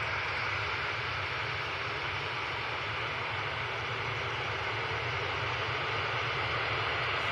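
A TUI airliner departs Manchester Airport, its engines giving a steady, distant broadband roar with no talking.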